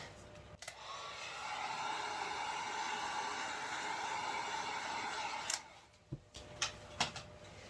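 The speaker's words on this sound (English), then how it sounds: "I'm gonna run over it with my heat gun real quick." A heat gun blows over freshly poured resin in a 6-inch 3-D heart mold. It gives a steady, fairly quiet airy hiss for about five seconds, then switches off, leaving a few light clicks and taps.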